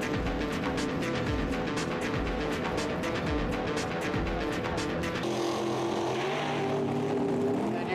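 3,500-horsepower nitro drag racer on a quarter-mile drag strip at Infineon Raceway, loud rapid crackling engine pulses that shift into a smoother, steadier roar partway through, heard at a distance with a faint voice in the background.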